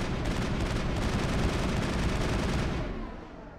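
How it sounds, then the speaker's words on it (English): Sustained rapid gunfire in the video game Mass Effect, a dense, loud burst of overlapping shots with a heavy low rumble that holds for almost three seconds and then tails off. "I can't shoot you, but I can shoot this guy."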